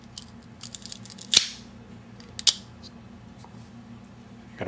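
Single-blade V cigar cutter chopping into a cigar, two sharp close clicks about a second apart set against faint background hum, with no talking.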